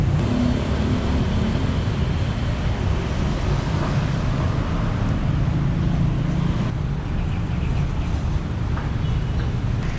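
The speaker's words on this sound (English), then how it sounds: "You can see that the traffic is a little bit busier down here." Busy street traffic in Chow Kit, Kuala Lumpur, a steady, dense rumble of engines and passing vehicles that runs unbroken and fairly loud throughout, with no clear voices on top.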